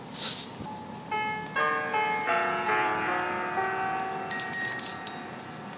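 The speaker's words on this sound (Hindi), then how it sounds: "हमने घंटी बजा दी है" A run of ringing video game bell tones from the game Granny chimes in a melodic sequence, bright and clear over a faint background hum, ending with higher tinkling notes.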